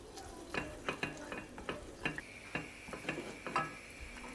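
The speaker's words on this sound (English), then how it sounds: "I start by sauteing tomato and pepper paste in olive oil and adding slices of garlic." Tomato and pepper paste sauteing with sliced garlic in olive oil for Turkish kofte, a soft sizzle under a regular series of tapping, scraping spoon strokes, close and fairly quiet.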